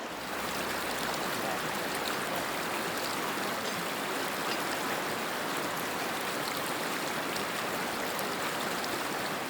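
Creek water of the North Yuba River flowing, a dense, steady rushing and splashing that fills the whole stretch, loud and close with no voices.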